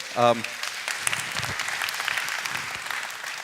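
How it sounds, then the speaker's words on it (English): Applause from an audience at a debate on science and religion follows a brief spoken voice at the start, then runs as steady, moderately loud clapping to the end. "well, since you got applause, I'll sort of agree with you."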